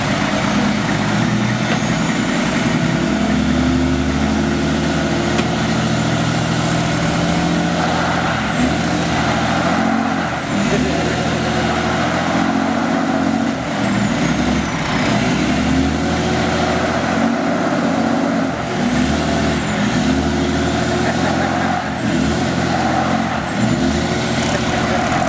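A fire truck and a Cummins diesel pickup rev hard in a tug of war, with loud, continuous engine roar and rising and falling strain throughout, tires spinning as the engines labor.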